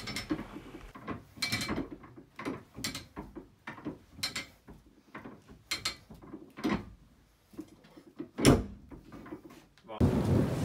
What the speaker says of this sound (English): to screw down the handbrake, which, as you can tell, being an old machine, it is hard